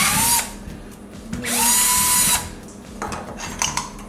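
A power drill widening a hole whirs in two loud bursts, spinning up and winding down, with a brief pause between and quieter clicks and handling afterward.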